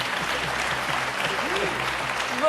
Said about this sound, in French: On peut applaudir Pierre Bénichou pour sa modestie.